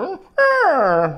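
A mimicry artist voices a dog: a short yelp, then a long, whining howl that slides downward in pitch, loud and close. It is done entirely by a human voice.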